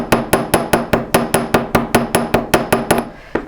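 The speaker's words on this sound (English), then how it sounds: "I'm going to use the riveting side here and kind of tap that down" A ball peen hammer taps a rivet down on a metal bangle, with about seventeen quick, evenly spaced metallic strikes, close and sharp with ringing overtones, slowing near the end.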